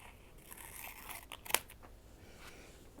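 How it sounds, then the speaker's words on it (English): Small scissors snip through a planner page for a Hobonichi A5 HON Cousin setup, with soft papery rustling and one crisp, sharp cut near the middle. "long enough, so I'm going to cut this in the center."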